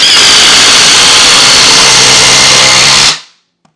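Ridgid or Milwaukee M18 cordless impact driver sinking a 6-inch Timberlok screw, a loud continuous hammering whine for about three seconds that cuts off abruptly, followed by a tiny click.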